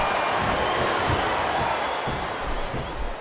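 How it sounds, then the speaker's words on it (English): An arena crowd in the Smackdown vs RAW 2007 wrestling video game chants and roars continuously, a loud, dense din with rhythmic pulses under faint commentary. "the crowd has come alive tonight with a chant directed at the superstars in the ring"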